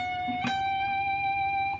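A short guitar phrase from Pachelbel's Canon, a few plucked notes settling onto a sustained G that rings out and fades, soft and close.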